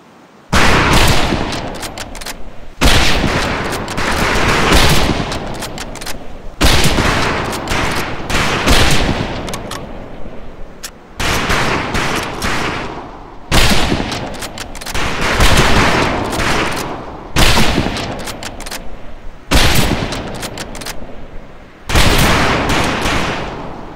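Rifle fire on a boot camp firing range in Medal of Honor Pacific Assault, loud close shots in repeated rapid volleys separated by brief pauses, with no talking.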